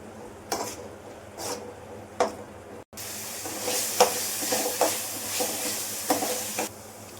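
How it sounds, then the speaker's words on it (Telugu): Masala and mint paste for mint coriander rice being stirred in a pan of hot oil, with steady close sizzling and repeated scraping strokes of a spoon against the pan. "మొత్తం ఒకసారి కలుపుకొని ఆయిల్ పైకి తేలేదాకా ఉడికించుకోవాలి."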